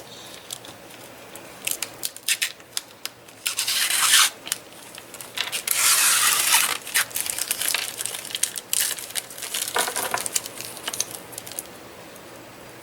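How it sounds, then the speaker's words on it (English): A tool scribes a line across card with a light touch, giving close, dry scratching strokes in short bursts and a few longer rasping passes, with no voices. "now do the other side the same way. Just go down through there and scribe it."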